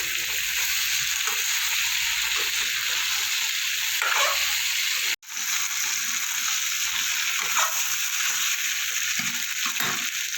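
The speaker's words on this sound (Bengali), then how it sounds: "আদা কাঁচা গন্ধটা না যাওয়া পর্যন্ত একটু নাড়াচাড়া করে নেব।" Ginger and spices fry in a pan for a pumpkin and potato curry, a loud, steady hiss of sizzling oil close by with soft stirring scrapes underneath and one brief dropout midway.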